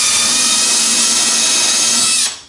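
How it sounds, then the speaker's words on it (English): A power drill bores steadily through wood until it reaches metal, making a loud continuous whine close to the mic that runs for about two seconds and then cuts off. "I'm going to drill through."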